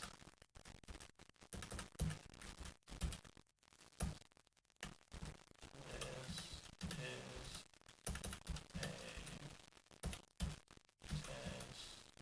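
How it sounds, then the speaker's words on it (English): Rapid typing on a computer keyboard set to a modified Graphite layout, a close, irregular stream of key clacks in bursts with short pauses, fairly faint. "let's see if I can type on this"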